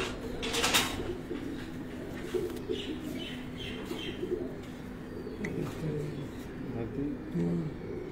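Pigeons cooing at a pigeon racing festival at a marriage hall in Gujrat, with soft repeated coos over a busy background and people talking nearby.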